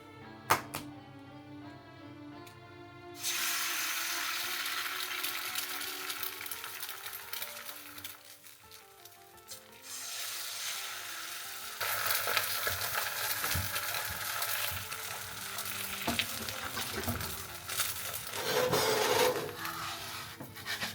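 Food fries in oil in an uncoated iron frying pan, a soft, steady sizzle that starts after a few quiet seconds and swells and fades over a long stretch, with occasional clicks and scrapes.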